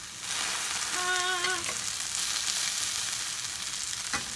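A plant-based breakfast sizzles in a pan as it is flipped, a constant moderate frying hiss broken early by a brief whistling tone and a sharp clatter near the end.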